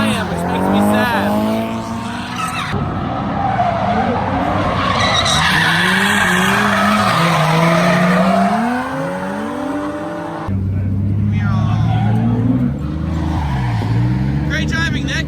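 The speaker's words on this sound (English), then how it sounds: "I think Nick is driving my car better than I am" Drift car skidding around Ebisu Circuit in Japan, loud tire squeal and engine roar sweeping in long slides, with voices talking over the noise.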